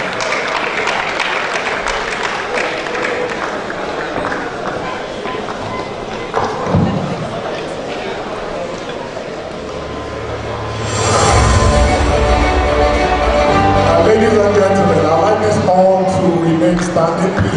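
A crowd at an awards gala for an African youth Scrabble championship applauds in a hall. Scattered thuds and murmuring come first, then the applause swells into sustained, loud clapping over the second half, with music and voices beneath it.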